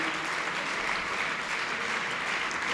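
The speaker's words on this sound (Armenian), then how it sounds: "բայց այս ծափերը ձերն են" Audience at a book launch clapping in a dense, sustained round of applause that stays loud and even from start to finish.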